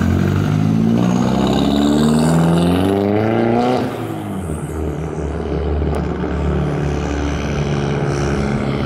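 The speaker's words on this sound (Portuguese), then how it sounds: "olha o assoviozinho da turbina" A turbocharged car leaving an event gives off a rising turbo whistle over the engine's revving, loud and close, then the tone drops and the engine settles into a lower steady drone.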